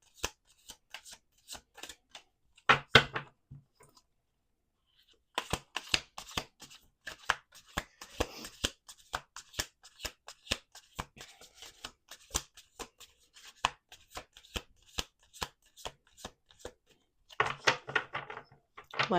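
A deck of tarot cards being shuffled by hand, with scattered card snaps and taps plus a few denser riffling bursts near the start and the end, close and fairly quiet, and no talking.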